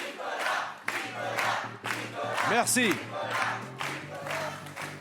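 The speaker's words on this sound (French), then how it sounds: "La foule a scandé Nicolas, Nicolas, Allez Nicolas." A French game-show studio audience chants a man's first name in loud, rhythmic unison, rising cheers and shouts filling the room, with one brief spoken word near the end.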